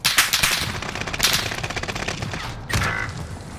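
Rapid machine gun bursts in a first-person shooter video game, loud and near, with repeated rattling volleys and a sharp final burst.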